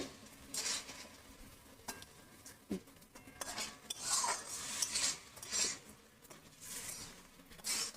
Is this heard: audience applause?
no